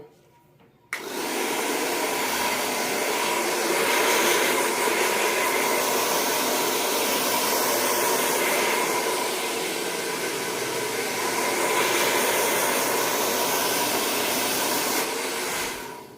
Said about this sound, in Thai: เดี๋ยวเป่าผมเสร็จแล้วกลับมาเจอกันค่ะ